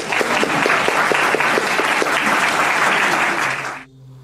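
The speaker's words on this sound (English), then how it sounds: "can we get a round of applause for how awesome it was?" An audience at a talk bursts into loud, dense applause that holds steady for several seconds and then stops abruptly.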